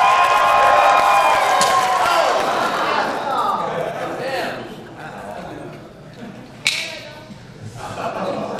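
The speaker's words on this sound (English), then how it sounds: "Big round of applause for Jim Rose!" Festival audience cheering and applauding loudly for a sideshow host's entrance, with whoops over a dense crowd roar that gradually fades, followed by a sharp thud and a brief renewed swell.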